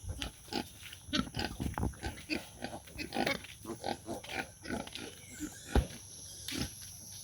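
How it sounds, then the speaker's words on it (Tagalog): Native piglets grunt and squeal in a pen, a rapid irregular series of short close grunts overlapping one another, fairly loud, with no talk. "16 pieces na lang yung natira na biik."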